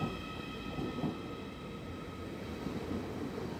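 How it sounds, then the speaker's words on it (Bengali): A German DB train pulls away from a station platform in Austria, giving a steady, close rumble with a low drone and a faint high whine running through it, and no voices. "এটা হচ্ছে জার্মানের একটা ট্রেন, ডিবি ডয়েচেস ব্রেনসেস"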